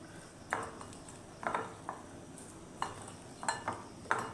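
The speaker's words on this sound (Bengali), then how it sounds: "হলুদ মরিচ লবণ এগুলো দিয়ে চিংড়ি মাছগুলো মেখে নিলাম।" Shrimp being mixed with turmeric, chili and salt in a metal bowl: a spoon clinks and scrapes against the dish in irregular bursts, about eight short taps spread across the stretch, close and moderately quiet with faint background noise.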